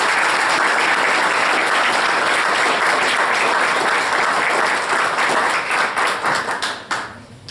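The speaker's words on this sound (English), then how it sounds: "So if we could give them a big round of applause." Applause from a crowd at an award ceremony for distinguished women, a full, loud burst of many clapping hands that holds steady for several seconds, then thins to a few claps and fades out.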